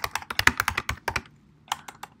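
Rapid typing on a computer keyboard, a quick run of crisp key clicks, then a short pause and a few more taps, close and fairly quiet with no talk.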